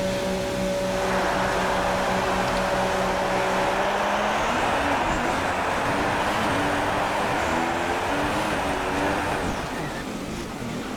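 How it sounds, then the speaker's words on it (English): A Formula 1 car on track in the F1 2016 video game at the Canadian Grand Prix on a wet track, engine droning and rising and falling steadily over constant road noise. "so we're going to do just a little installation lap here"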